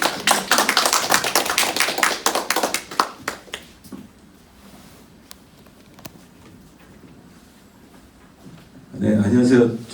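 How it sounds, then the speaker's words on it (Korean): An audience at a redevelopment project briefing claps, a burst of quick, close hand claps that thins out over about four seconds, followed by quiet and then a voice starting to speak. "박수 한번 부탁드리겠습니다."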